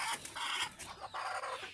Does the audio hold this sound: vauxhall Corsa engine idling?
no